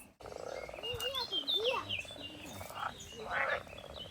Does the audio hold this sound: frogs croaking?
yes